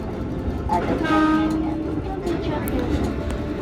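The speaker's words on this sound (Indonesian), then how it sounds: "hari itu aku naik dapat KRL JR205, yang mana ini merupakan KRL mutasian dari Jakarta" A JR205 KRL electric commuter train, a unit transferred from Jakarta, running on the Solo–Palur line: a steady rolling rumble with a sustained horn-like tonal blast midway and faint clicks, while a voice talks over it.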